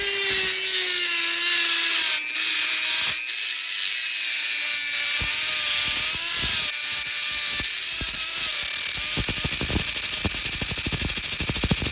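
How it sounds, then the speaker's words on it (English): A screwdriver working on the clutch push rod seal of a 2005–2006 Suzuki GSX-R 1000, heard close as a steady high-pitched whirring grind, broken by brief pauses and a run of rapid clicks near the end, with no voices. "So I just use a screwdriver to help this go faster."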